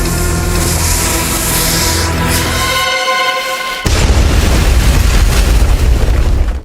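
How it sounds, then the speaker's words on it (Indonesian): A massive explosion in a film erupts with a deep, thundering boom and a sustained roaring blast that fills the space loudly. "terjadi sebuah ledakan yang sangat dahsyat"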